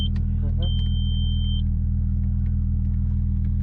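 A rough Audi race car engine idles with a steady low rumble, loud and close and constant throughout, while a brief high electronic tone and a faint voice pass over it early on.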